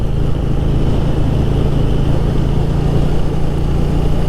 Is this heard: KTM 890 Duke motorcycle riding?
yes